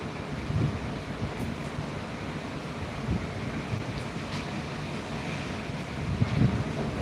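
Steady wind rumbles and buffets the microphone in low gusts, a constant roar with no voices.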